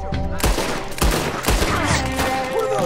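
A Red Dead Redemption 2 shootout with loud, close gunfire: several sharp cracks spaced roughly half a second apart, each ringing out over the rumble of a firefight.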